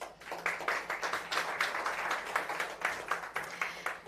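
Audience applause welcoming World Bank economists Jacques Morisset and Javier Baez to the stage at a report launch on inclusive growth in South Africa, a steady dense roomful of clapping lasting several seconds.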